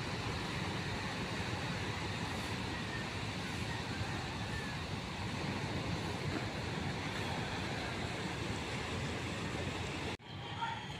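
Sea waves wash in a steady, dense roar mixed with wind buffeting the microphone, continuous and close for most of the stretch before abruptly dropping away at the very end.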